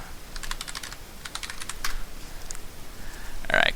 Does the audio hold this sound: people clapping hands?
no